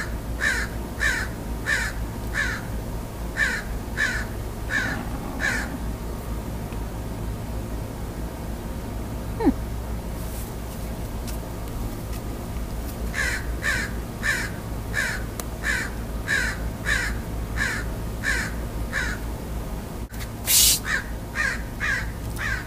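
A crow caws outdoors in two long runs of evenly spaced, harsh calls, separated by a pause, over a constant low background hiss.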